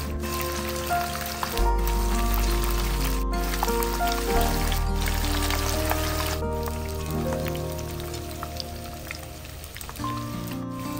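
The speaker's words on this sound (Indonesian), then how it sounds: "Untuk menggorengnya di sini aku menggunakan deep fry pan cookware Idealife IL28DFP" Tahu bakso deep-frying in oil in a 28 cm nonstick marble-coated Idealife IL28DFP deep fry pan, giving a steady, dense sizzle and crackle that runs the whole time, close and fairly loud with no voice.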